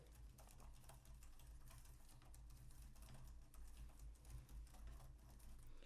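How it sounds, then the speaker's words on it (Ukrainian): Steady, rapid clicking of keys on a computer keyboard, close by and continuous, with a low background hum underneath. "Ось я починаю набирати."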